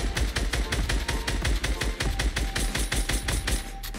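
A SCAR assault rifle fires in rapid automatic bursts in a video game, a loud, dense run of closely spaced shots that continues steadily for about four seconds.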